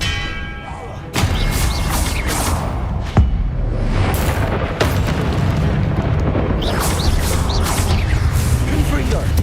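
Fiery Confringo spell blasts in Hogwarts Legacy, a string of loud booming bursts over continuous game noise, with a sharp thud near the start and repeated impacts throughout; spell names are spoken.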